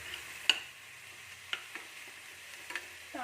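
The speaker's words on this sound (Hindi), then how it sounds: "हल्का सा मैं इसको प्लेन फ्राई कर देती हूँ" Sweet corn frying plain in a pan makes a faint, low sizzle, with a few sharp taps and clicks from stirring scattered across it.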